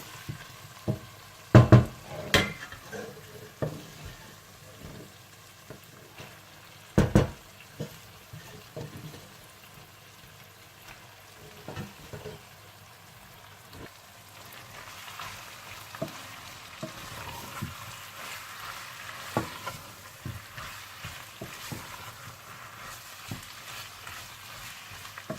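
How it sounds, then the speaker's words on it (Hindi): Potatoes and spinach for aloo palak sizzling quietly in a pan, with a couple of sharp utensil knocks early on, then soft stirring and a faint steady fry that grows slightly busier. "5-6 मिनट आलूओं को भूनने के बाद आप इसमें पालक डालकर अच्छी तरह से मिला लें"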